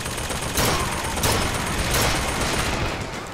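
Sustained gunfire from a shootout in the video game Bioshock Infinite, a dense, loud wash of rapid shots with a few heavier bursts standing out, and no speech.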